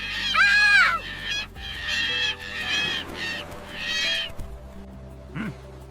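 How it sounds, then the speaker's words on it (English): Seagulls near the sea in Turkey give a series of loud, harsh cawing calls in bursts, heard fairly close with brief pauses between calls. "This seagull is still following us."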